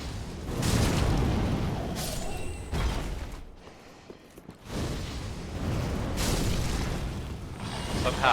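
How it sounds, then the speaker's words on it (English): An explosion in Dark Souls 3 booms and roars with a broad rushing blast, dies away into a brief lull, then another long rumbling wash of game noise swells back up. "Somehow that explosion did hit the other dog."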